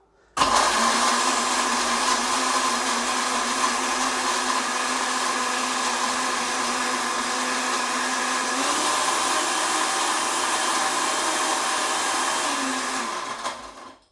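A blender blitzing a cocktail gives a loud, steady motor whir that runs continuously for about thirteen seconds, starting abruptly and cutting off at the end, like a blender running at full speed.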